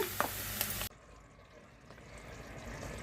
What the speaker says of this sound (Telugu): వేగిపోవాలి ఇవి కొంచెం ఇలాగే అయితే సరిపోతాయండి